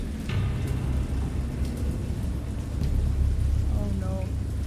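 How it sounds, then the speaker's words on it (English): A storm with heavy rain and thunder: a dense, continuous roar of rainfall over a deep, steady rumble, lasting the whole stretch, with a brief faint voice-like tone near the end. "I know that I heard pearls of thunder and other tones which nature utters only in her wildest moods"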